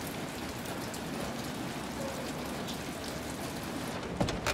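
Steady rain falls at a crime scene in the video game Detroit: Become Human, an even, moderate hiss of drops with a brief louder patter near the end.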